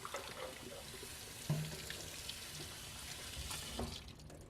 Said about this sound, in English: Just run some water over them.